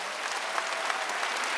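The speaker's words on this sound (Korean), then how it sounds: "박수를 하나 주세요" Steady applause from a congregation at a Wednesday church worship service, a dense, even patter of many hands with no talk over it.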